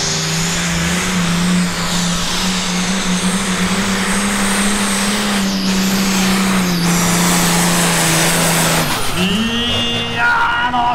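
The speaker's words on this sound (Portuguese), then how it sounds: "E a pista está liberada para o trator Chumbo Quente." The pulling tractor Chumbo Quente, a Pro Stock 5500 kg machine at a tractor pulling event in Arapoti, roars loud and sustained down the track, with its pitch climbing and dropping as the engine works under load.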